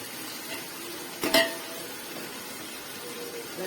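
Chicken pieces hit hot oil in a pot while cooking chicken mandi, giving a steady soft sizzle with a sharp clattering burst near the middle, close and moderately quiet, no talking.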